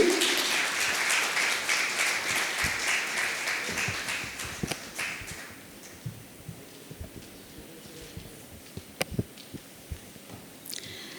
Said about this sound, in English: A huge round of applause for Sri Raman.